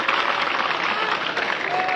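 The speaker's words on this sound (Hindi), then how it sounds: "प्रिंस के लिए भी जोरदार तालियां" An audience at a Bahujan rally speech breaks into applause, steady dense clapping from a crowd heard throughout, with some voices mixed in.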